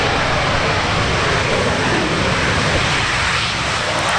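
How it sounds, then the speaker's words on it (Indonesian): A toy fighter jet gives a loud, steady, hissing roar like a jet engine, held at an even level for about four seconds with no talking. "lihat, ada pesawat tempur"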